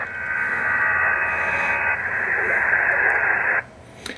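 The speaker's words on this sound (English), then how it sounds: "The band's been noisy this morning. A lot of crud coming through." Static and interference hiss across the 75 meter amateur radio band through a receiver, a steady loud band of noise that shifts midway and cuts out abruptly near the end, followed by a brief click.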